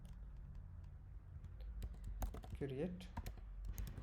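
A command typed out on a computer keyboard, with quick irregular clicks under a man's steady speech.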